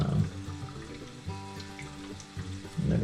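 Water rushes steadily into a toilet tank refilling after a flush, a continuous hiss and gurgle with a low hum beneath it, with no voices.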